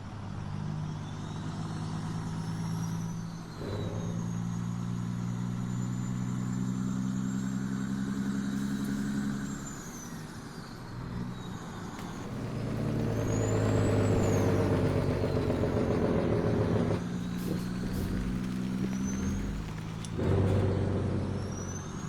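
An American semi truck in Farming Simulator 17 rumbles with a deep engine note, idling and pulling away, with sharp air-brake hisses breaking in several times and the engine swelling louder near the end.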